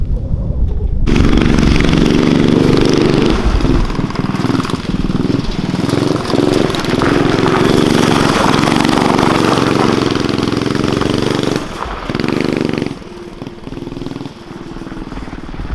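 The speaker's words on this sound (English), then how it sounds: "I'm going to throw a new spark plug in this, and we're going to ride it a little bit" A small go-kart engine with a fresh spark plug runs loud and steady up close, a buzzing, mid-pitched roar that holds for most of the clip before dipping briefly near the end.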